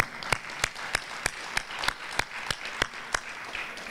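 Applause at a county education forum on Common Core standards comes as sparse, evenly spaced claps at a slow, steady rhythm, moderately loud in a room, with no talk over it.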